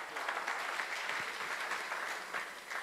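A church congregation applauds steadily for about three seconds, dense clapping from many hands filling the room with no break.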